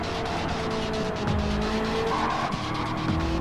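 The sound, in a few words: race cars drifting, tires squealing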